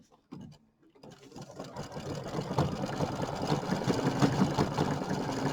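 A home sewing machine runs a small decorative stitch on a fabric January square, a steady close mechanical whir with rapid needle chatter that starts after a brief quiet moment and holds for several seconds.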